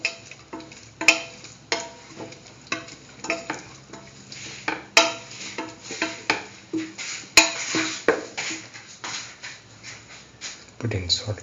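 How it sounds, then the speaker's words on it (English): Mustard-marinated broccoli, potato and rice being stirred in a pot, with repeated scraping and clinking of a utensil against the pan in a steady rhythm, close and moderately loud, with a faint low hum underneath. "Mix thoroughly."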